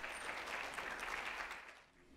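An audience at a health careers program at SUNY Downstate claps in a dense, sustained round of applause that fades slightly toward the end.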